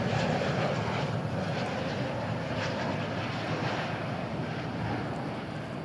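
A jet airplane roars steadily through the whole stretch while taking off at DFW airport, a loud continuous broadband engine rumble with a slight fade toward the end and no talking.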